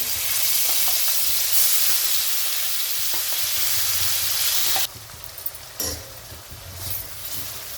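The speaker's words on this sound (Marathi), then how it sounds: "आता मसाल्याला चांगलं परतून घेऊ" Ground spice paste frying in hot oil in a kadhai, a loud steady sizzle and hiss that drops abruptly to a softer crackle with occasional stirring scrapes, close up, no speech.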